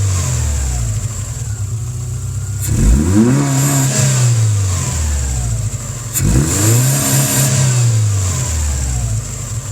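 A Mitsubishi Eclipse GSX engine breathing through a big open air filter revs hard twice from idle, each climb and fall loud and close, with a steady idle between.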